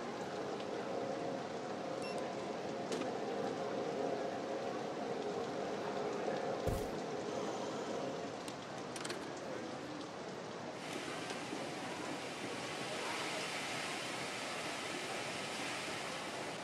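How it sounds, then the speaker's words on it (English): Steady rain falls in the video game Two Point Campus, a continuous broadband hiss with brief tonal game sounds, growing brighter and denser in the last third. "Oh look, it's raining."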